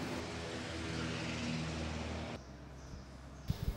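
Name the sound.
Russian Sukhoi 31 aerobatic plane flying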